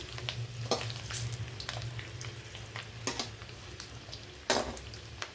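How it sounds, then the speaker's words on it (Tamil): An egg fries in a pan over a low flame with a soft, steady sizzle, scattered crackles and a few light pan clinks, close and without speech. "அடுப்பை ஸ்லோவாக வச்சு இந்த மாதிரி பொரிச்சு எடுத்துக்கோங்க."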